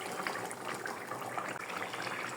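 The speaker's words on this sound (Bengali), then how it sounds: "পানিটাকে গরম করে নিয়েছি, গরম পানি দিয়ে দিচ্ছি।" Hot water pours into a cooking gourd and shrimp curry with a continuous, faint liquid gush and bubbling splash, steady throughout with no talking.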